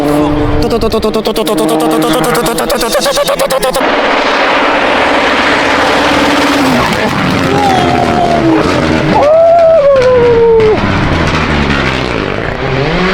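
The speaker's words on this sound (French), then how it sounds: "Oh c'est des avions." Aircraft engines roar past amid loud rally noise at the 2025 Rallye d'Antibes, with a rising and falling whine as planes sweep by, while a voice talks over it.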